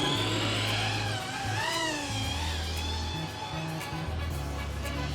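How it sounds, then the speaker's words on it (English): A first-person-view RC car driving flat out through grass, its electric motor whining steadily close up, with pitch sweeps as it speeds and brushes through the vegetation, no voices. "I'm full throttle. This is as fast as I can go through this grass."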